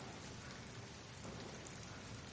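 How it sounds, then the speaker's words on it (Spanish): Heavy rain pours steadily as a radio-drama sound effect, a soft, even hiss of dense drops with no pauses or other sounds. "La lluvia había arreciado con violencia."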